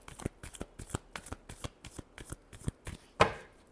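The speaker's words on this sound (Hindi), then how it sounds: "last shuffle" Tarot cards are shuffled close up in a quick, even run of crisp riffling snaps, ending in one louder final slap of the deck.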